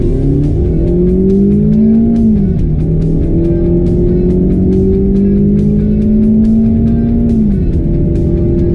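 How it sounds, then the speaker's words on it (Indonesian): A Mazda MX-5 RF with automatic transmission, rear-wheel drive, accelerating hard, its engine note climbing steadily and loud and close, with a brief dip at each gear change before rising again. "Kita ada klip akselerasi waktu dulu cobain MX-5 RF Matic. Nih, kalau kalian mau dengerin suara merdu mesinnya."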